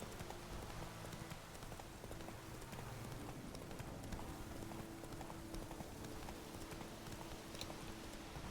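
Roach, the horse in The Witcher 3, clip-clops steadily along in the Velen region, with even, moderately loud hoofbeats over a dense layer of game ambience.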